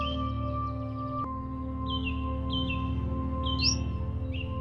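Several short descending chirps from an Indian robin, repeated at intervals over a steady low hum of background noise.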